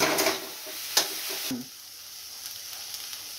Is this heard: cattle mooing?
no